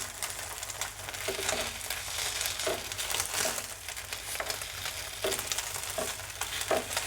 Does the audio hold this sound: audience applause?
no